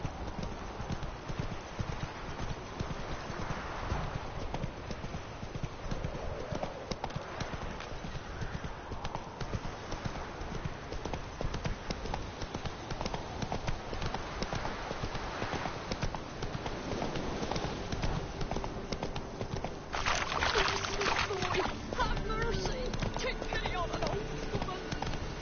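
Horse hooves clip-clop steadily through The Witcher 3, a rhythmic trot running under continuous game ambience and music, with a brighter burst of sound near the end.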